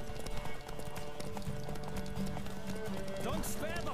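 Horse hooves gallop at a steady clip-clop during a horse race in The Witcher 3: Wild Hunt, mixed with shouting voices, game music and a brief whinny near the end.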